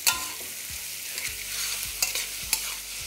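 Thinly sliced onions fry on a high flame while a utensil stirs them in the pan, a continuous sizzle broken by periodic scraping knocks, close up and without speech.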